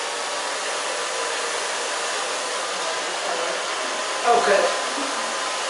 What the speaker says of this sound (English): I'm going to dry that front just a little bit more.